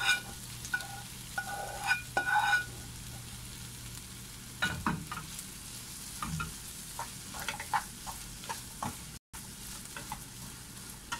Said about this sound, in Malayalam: ഇനി നമ്മൾ ഫ്രൈ ചെയ്ത് വെച്ചിരിക്കുന്ന ചെമ്മീൻ ചേർത്ത് കൊടുക്കാം.